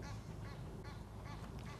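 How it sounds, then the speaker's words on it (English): Ducks quacking repeatedly near a widebeam canal boat, a rapid run of close, fairly loud calls with no talking. "Listen to them ducks."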